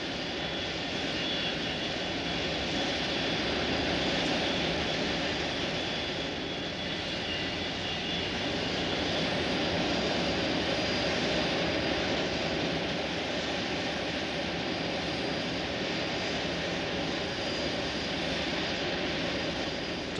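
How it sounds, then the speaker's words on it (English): A Boeing 747 jumbo jet flying near Boeing Field in Seattle in 1969, a loud, continuous, broadband engine roar that holds steady with little change for about twenty seconds. "To the watchers at Boeing Field in Seattle, the Jumbo's size makes it seem practically stationary in the air."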